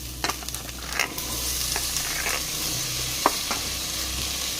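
Potato pieces for alu fry, cooked without onion, fry in hot oil in a pan, giving a steady close sizzle with scattered sharp pops and light scraping clicks.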